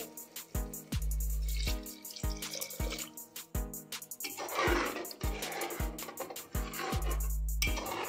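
Water splashes and drips steadily into a cooking pot of veg biryani, with a bright, fairly close trickle and small irregular splashes throughout.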